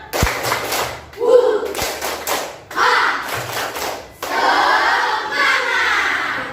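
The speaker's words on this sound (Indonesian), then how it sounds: "Kita mulai ya dari hitungan pertama. Tepuk semangat." A class of children performs a rhythmic clapping chant led by a teacher, with sharp clustered claps and thumps alternating with chanted group voices in short bursts.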